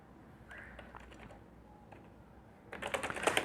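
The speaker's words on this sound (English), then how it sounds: "Type in the password." Someone types a password on a computer keyboard, soft scattered key taps at first, then a faster, louder burst of keystrokes at the end, close and alone.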